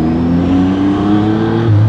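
A Yamaha MT-09 SP motorcycle with an Akrapovic full-system exhaust revs hard with a loud, steady, high-pitched engine whine that climbs near the end, heard close and with no voices.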